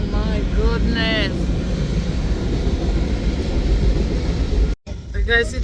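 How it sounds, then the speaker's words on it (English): A long freight train rumbles steadily past at close range, a continuous low roar with wheel and wagon noise, while people talk over it. "This is a long train."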